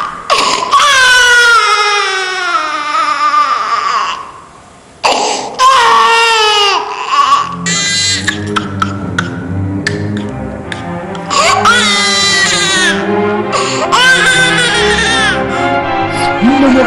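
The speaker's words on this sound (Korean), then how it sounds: "가는 듯한 아기의 자지러진 울음소리가 밤하늘에 미아를 쳤고" An infant cries shrilly in long, piercing wails, loud and close, breaking into sobbing bursts and sustained screams that carry on for many seconds.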